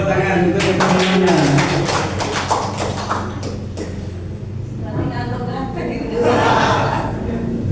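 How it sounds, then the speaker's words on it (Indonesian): Classroom of pupils clapping for their classmates, a burst of quick scattered claps near the start with laughter and voices mixed in, then chatter and further murmurs. "tepuk tangan untuk teman-temannya"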